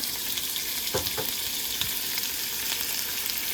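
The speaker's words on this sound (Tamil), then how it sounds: "இப்போ இதில் என்ன பண்ண போகிறோன்னா டைரெக்டாக நம்ம மின்ஸ்டு சிக்கனை உள்ளே ஆட் பண்ணியிருக்கோம்." Minced chicken fries in oil, a steady close sizzle broken by a few scraping stirs of the spatula through the pan, with no talking.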